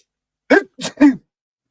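A single sneeze, close and sharp, in a few quick bursts, then silence.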